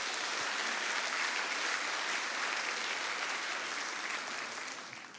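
During a Sunday worship service, a church congregation applauds a children's choir of sixteen singers, with steady, moderately distant clapping that fades out at the end.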